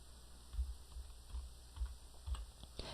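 Soft keystrokes on a computer keyboard, four or five faint, unevenly spaced taps over a quiet background.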